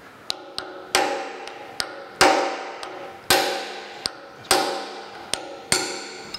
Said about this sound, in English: So let me grab a hammer and a punch.